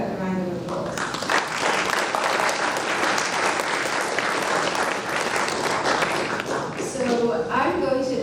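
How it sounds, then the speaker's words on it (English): Lecture audience in a physics lecture hall breaking into sustained applause, dense clapping filling the room for several seconds, with brief voices at the start and end. "Please give her a round of applause."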